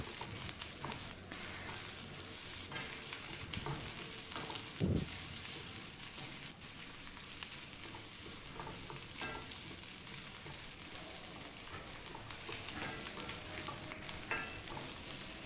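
Steady loud sizzling of chicken and onion sautéing in a hot pan, with occasional scraping and stirring clatters over the continuous crackle, no talking.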